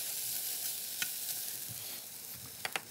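Red onions sizzle and begin catching in a hot pan, a steady soft frying hiss with a few faint scrapes of stirring near the end.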